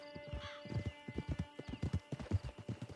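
Horse hooves in the Western video game Red Dead Redemption 2 clip-clop in a steady, close, clear rhythm. A soft whinny comes in near the start and a low background hum sits underneath.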